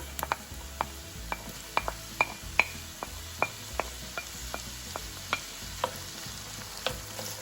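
Carrots and celery sauté in a pot for chicken pot pie with a steady low sizzle. A spoon stirring the vegetables taps and scrapes the pot at regular intervals.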